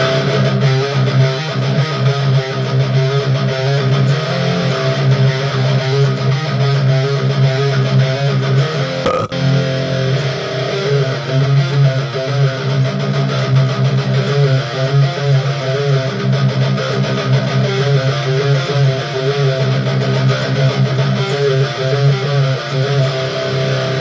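Dense, heavily distorted metal electric guitar chugging steadily with a full, compressed, EQ-preset tone, loud and continuous with no voices.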